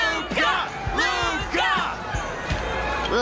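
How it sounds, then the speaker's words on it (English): Cheering crowd around a fight cage in the video game Honkai: Star Rail, a loud, lively mix of whoops, shouts and yells rising and falling throughout, near and busy. "Ugh, the crowd never gets tired, do they?"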